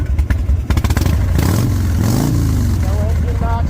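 A car engine runs close by, revving with a rough, rising growl and clattering bursts, and pitch sweeps higher toward the end as the throttle opens.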